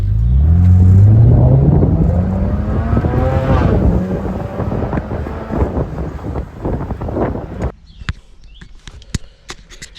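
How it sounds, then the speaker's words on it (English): A BMW 335i engine running cold, with a deep, loud rumble that rises in pitch as it revs, then settles and fades, leaving scattered clicks and knocks. "Cold engine."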